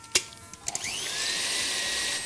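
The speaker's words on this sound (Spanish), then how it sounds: "Vamos a batir a velocidad alta hasta encontrar el máximo de volumen" An electric mixer whips cream with 10% sugar to chantilly at high speed: a few clicks and knocks, then a steady rising whine as the beaters spin up and run continuously.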